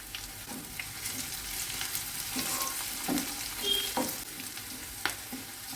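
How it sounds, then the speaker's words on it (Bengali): Chopped garlic and ginger sizzling in hot oil after fried onions in a pan for palak paneer, a steady crackling fry with occasional stirring clinks, close and moderately quiet, no talking. "রসুন কুচিগুলো দিয়ে দিলাম। আদার কুচিগুলো দিয়ে দিলাম।"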